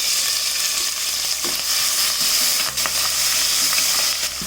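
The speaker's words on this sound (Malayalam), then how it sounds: "ഇനി നമുക്ക് ഈ ചതച്ച് വെച്ചിരിക്കുന്ന ഇഞ്ചിയും വെളുത്തുള്ളിയും പച്ചമുളകും കൂടി ഇട്ട് വഴറ്റി കൊടുക്കണം." Crushed ginger, garlic and green chilli are sautéed with cardamom, cloves and cinnamon in hot oil for a meatless curry, a loud, continuous close sizzle with occasional stirring scrapes and no voices.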